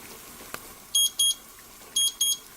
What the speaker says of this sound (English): So I'm going to set the timer for 1 minute